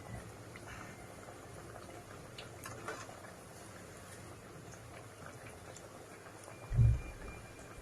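Rice flour snacks deep-frying in hot oil give a faint, steady bubbling hiss, with one soft low thud near the end as a piece is flipped.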